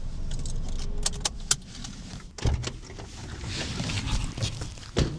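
Car keys jingle and rattle in several quick, sharp bursts at a busy car dealership, with faint background noise and occasional thumps.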